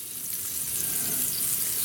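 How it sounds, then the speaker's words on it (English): Butter sizzling hard in a hot pressure cooker, a steady bright crackling hiss that fills the short clip with no voices. "listen to that sizzle."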